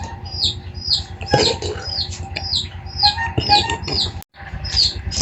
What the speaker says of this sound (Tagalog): maingaw, maingay ang sisiw ni Libit